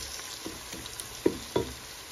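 Meat curry frying in onion masala, a soft steady sizzle with a few short scraping stirs, two louder clunks near the middle of the short stretch.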